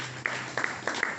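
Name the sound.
audience clapping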